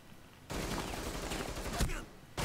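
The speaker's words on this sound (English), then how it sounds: "Who's shooting at me?" Gunfire in the Rainbow Six Siege video game bursts in loud and dense after a quiet start, a sustained volley of shots that drops off briefly before firing resumes at the end.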